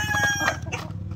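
Asil and shamo chickens cluck and squawk close by in a short burst, with a brief crowing note among the calls.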